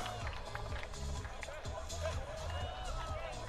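A crowd roars after a long-range goal at a Football Queensland Premier League Round 4 match between Capalaba FC and Ipswich Knights. The steady, dense cheering and hubbub continues throughout, with a commentator talking over it.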